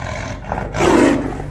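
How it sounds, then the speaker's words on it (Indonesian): A tiger's roar rumbles alone through a single rising and swelling call, loud and close, with a deep throaty growl carrying over a steady low background. "auman macan."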